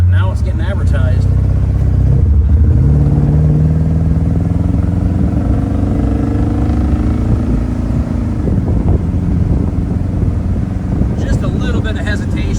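A restored 1957 Chevrolet Bel Air convertible with a 350 V8 pulls away with a loud, rumbling exhaust, the engine note rising and falling as it accelerates, heard close with wind buffeting and clatter, and a voice talking over it.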